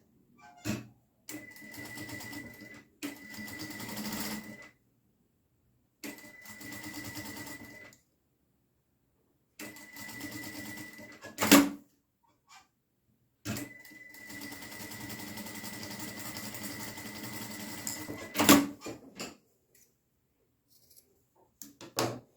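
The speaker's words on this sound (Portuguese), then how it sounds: "eu vou fazer uma costurinha nessa borda e nessa outra borda aqui também" A sewing machine stitching a small seam along fabric edges, running in several bursts of steady whirring separated by pauses, with a couple of sharp clicks between runs.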